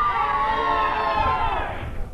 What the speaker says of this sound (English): we return to the Adelphi Rathskeller, where thousands of people are screaming for more news